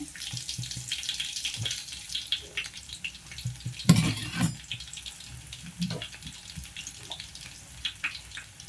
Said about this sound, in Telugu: కొంచెం ఆయిల్ పోసుకొని ఆయిల్ వీటెక్కంగానే ఒక 4-5 వెల్లుల్లి రెమ్మలు ఇట్లా కచ్చిపిచ్చిగా కొట్టేసి వేసేసుకుందాం